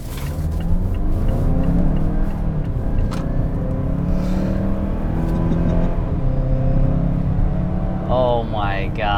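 A 2019 Mazda CX-5 Turbo SUV pulls away on the road. The engine drone climbs steadily in pitch as it gains speed, with road and wind noise throughout, and a voice exclaims near the end.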